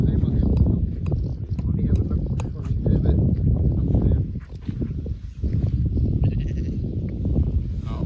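Sheep bleating outdoors during an early-morning bike ride, several close, loud calls rising and falling while a person talks over them.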